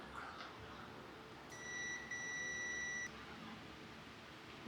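A multimeter in continuity mode gives a single steady electronic beep lasting about a second and a half, faint under a low background hiss.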